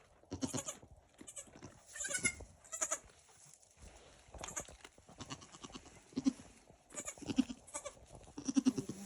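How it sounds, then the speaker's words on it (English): Newborn baby goats bleat repeatedly in short, close cries with brief pauses between them, on a frigid night just after birth. "a newborn baby goat that's just cold"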